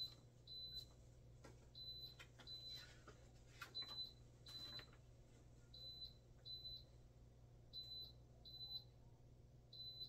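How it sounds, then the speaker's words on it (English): A Vevor 8-in-1 heat press sounding its ready alarm: a run of short, high electronic beeps in pairs, repeating steadily and fairly close, with faint handling clicks and rustles between them. "so you hear the alarm. It's letting us know that the press is ready to go."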